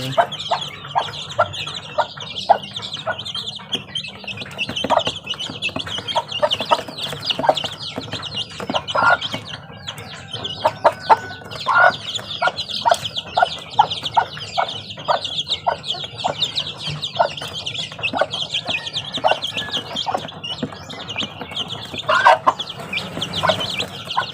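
Chickens, a black hen with newly hatched chicks, cluck and chirp continuously nearby, a busy mix of short clucks and peeps with no talking.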